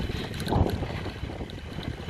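Strong outdoor wind buffets the microphone with low, rumbling gusts that swell and ease, peaking loudly about midway through.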